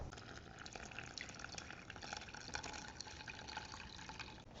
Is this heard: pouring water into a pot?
yes